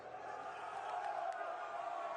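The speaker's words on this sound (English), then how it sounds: "Huge cheer from the sides of the road as Van Hooydonk makes his move." Roadside spectators at the Kuurne-Brussels-Kuurne 2022 cycling race send up a steady, distant-sounding crowd roar of cheering and shouting that holds throughout.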